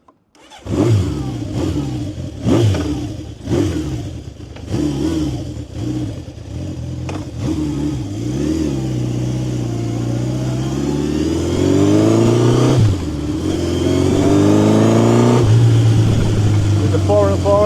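A 1970 Honda CB750 Four K0 four-cylinder motorcycle engine with a 4-into-4 exhaust starts with several sharp revs, then settles into a steady rumbling idle with occasional blips of the throttle, close and loud.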